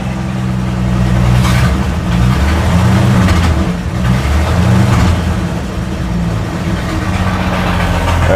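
A 1965 Chevrolet C10 pickup, long left sitting in a field, revs with its throttle held open, a loud, steady engine roar that swells and dips slightly throughout, close by and with no talking over it.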